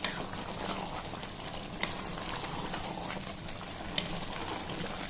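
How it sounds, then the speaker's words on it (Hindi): Chicken biryani masala with yogurt and spices simmers and sizzles in a pot while being stirred, a steady bubbling hiss with occasional soft scrapes, close and moderately quiet. "इसमें डाल दिया मैंने, अब इसको मिक्स कर लेंगे अच्छे से।"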